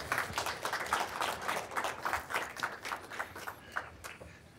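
An audience applauds at a talk event, a faint, steady patter of many hands clapping at some distance, sustained for a few seconds without voices.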